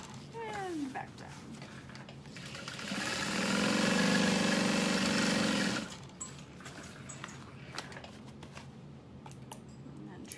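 A sewing machine back stitches a bucket bag in one steady burst of close, fast stitching that swells and then stops, with quiet handling before and after.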